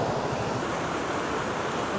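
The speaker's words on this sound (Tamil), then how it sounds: "அந்த நீர்வீழ்ச்சி வருது" Rushing water from a waterfall near Nuwara Eliya after heavy rain, a dense, constant roar of noise heard up close and steady throughout, with some wind buffeting the microphone.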